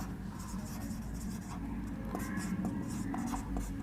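Pen writing an entry in an accounts ledger, a soft continuous scratching of nib on paper with small irregular strokes, faint and close over a low background hum.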